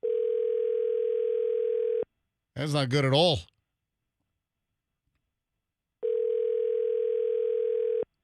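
Ringback tone on a phone line during a live morning radio show, heard as two long steady tones around a few seconds of someone talking, with silence between.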